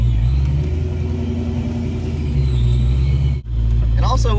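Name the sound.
tuned car on methanol injection accelerating at full throttle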